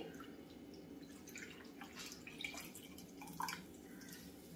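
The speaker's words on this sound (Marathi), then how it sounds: "आता ही भाजी व्यवस्थित पिळून, ही अशी पिळून घ्यायची आहे भाजी" Water drips and trickles from boiled Bharangi greens as they are squeezed by hand, several small irregular splats over a soft wet background, close and fairly quiet.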